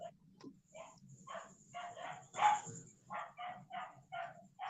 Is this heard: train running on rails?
no